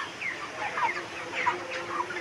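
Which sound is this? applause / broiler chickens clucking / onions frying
broiler chickens clucking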